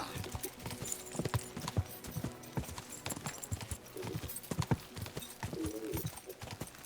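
Horse hooves clip-clopping in the game Kingdom Come Deliverance 2, a steady trotting rhythm of close, clear hoofbeats with faint harness jingles, running continuously without speech.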